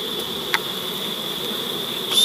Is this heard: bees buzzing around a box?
yes